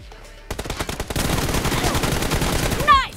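Rapid bursts of gunfire from a mobile battle royale video game, starting after a brief quiet lead-in and continuing as dense, loud repeated shots, with a faint voice at the start.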